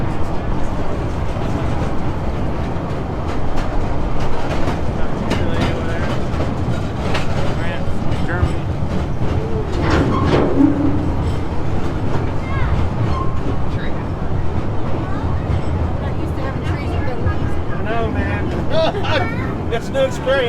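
A railway train at Busch Gardens Williamsburg rolls across a trestle with a constant rumble and clatter, while a voice talks over it throughout.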